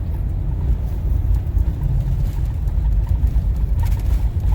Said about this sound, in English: Lots of lights, lots of traffic, lots of trucks.